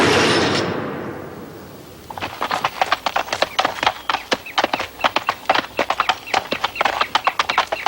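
An old, tired horse trots steadily with regular clip-clopping hooves close by, the rhythmic beats starting after a brief whoosh at the opening.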